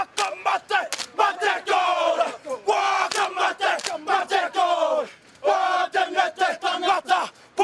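The Oriental Rongotai rugby sevens team performs a loud, chanted haka-style farewell to the crowd at a 2008 tournament, rhythmic shouted phrases with sharp group yells and brief pauses between lines.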